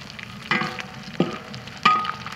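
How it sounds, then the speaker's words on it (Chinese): Fatty pork belly stir-fried in a wok to render its fat, with three distinct scraping stirs of a spatula over a soft, steady sizzle, close by and without talk. "先炒一下，把油炒出来。"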